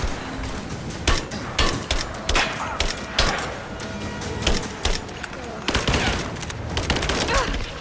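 Gunfire in the video game Rise of the Tomb Raider, rapid loud shots and thudding impacts in dense bursts through the whole stretch, with voices shouting over the fighting.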